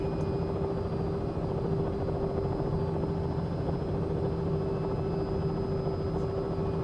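A helicopter in a flight simulator hums with a steady rotor drone and a sustained tonal engine whine, holding an even, continuous level close to the listener.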